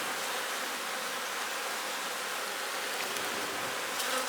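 A cluster of honey bees on a hive frame buzzes in a dense, steady hum, close and unbroken for the whole stretch.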